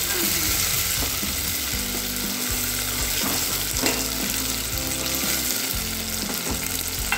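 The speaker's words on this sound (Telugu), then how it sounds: "ఇప్పుడు టమాటా వేసుకుందామండి. కొంచెం మెత్తపడాలి. బాగా ఫ్రై అవ్వాలి." Tomatoes fry in a pan with garlic for South Indian sambar, a loud continuous sizzle close by with occasional stirring scrapes and no voices.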